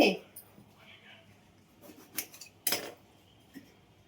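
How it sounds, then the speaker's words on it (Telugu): A knife cuts a lemon on a plate, making a few sharp metallic clinks and scrapes spaced unevenly against a quiet background, with someone speaking between the sounds. "ఇదిగో నిమ్మకాయ కట్ చేసి"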